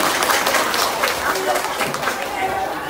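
Audience applause during a Vietnamese comedy skit performed at a temple: dense, steady clapping from a crowd with murmuring chatter underneath, sustained at an even level for a few seconds.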